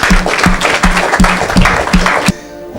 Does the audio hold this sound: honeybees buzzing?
no